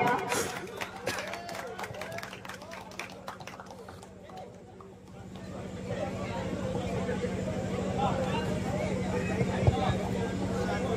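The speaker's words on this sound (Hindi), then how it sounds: "बहुत बहुत तालियां सर के लिए," An audience applauds a speaker at a stage event for a cup tournament. Loose clapping and crowd noise build from about midway and stay dense and steady to the end.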